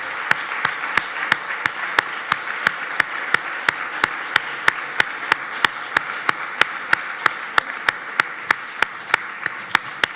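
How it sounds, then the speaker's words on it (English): Conference attendees at a 2015 wrap-up session clap for the event staff in a rhythmic, evenly spaced beat. The crisp claps come about three per second, steady and fairly close, over a soft background murmur. "an applause to Caterina, Franco."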